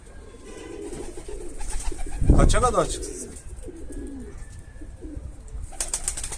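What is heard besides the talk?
pigeon cooing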